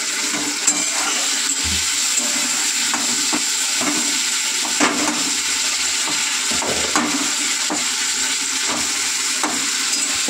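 Tomato and spices sautéing in a pan for a curry, a steady hiss of frying with occasional soft scraping and stirring, continuous and close, no talking.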